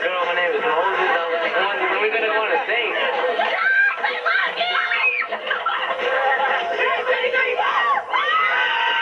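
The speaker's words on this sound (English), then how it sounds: "Hundreds of excited fans line up to the concert." Hundreds of excited fans lined up outside a concert, a dense crowd of high chattering voices, shrieks and laughter filling the air continuously at close range.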